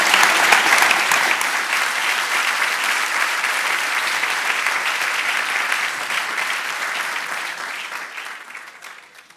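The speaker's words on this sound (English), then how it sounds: "if we could give them an applause for joining us" A debate-night audience breaks into sustained applause, a dense, loud wash of clapping that holds steady and then tapers off toward the end, with no talking over it.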